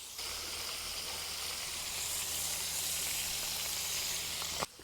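Finely diced outside skirt steak sizzles steadily in a hot discada, a continuous bright frying hiss holding even from start to finish before cutting off abruptly near the end.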